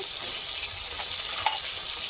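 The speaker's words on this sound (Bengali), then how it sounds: "টমেটো ভাজা ভাজা হয়ে আসছে" Tomatoes with a little sugar frying in a pan give off a steady soft sizzle, with one brief clink partway through and no talking.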